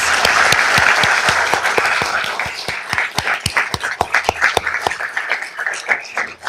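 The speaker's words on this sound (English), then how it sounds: "Please give them a round of applause." Applause at a city council meeting for the local police and fire departments, a dense burst of clapping that thins into scattered, separate claps toward the end.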